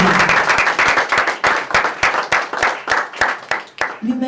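A congregation at a church service claps in a quick, loud burst of applause, rhythmic and close, tapering off at the end as a voice begins.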